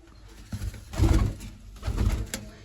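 Three paired pigeons in a coop give low throaty coos in two swelling bursts, close by and with no talking.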